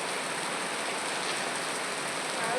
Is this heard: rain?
yes